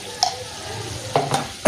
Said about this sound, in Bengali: রসুন বাটা দেওয়া হচ্ছে, দিয়ে আবার এগুলা লাড়াছাড়া করা হচ্ছে।